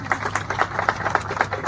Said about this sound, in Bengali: ওর জন্য জোরে হাততালি।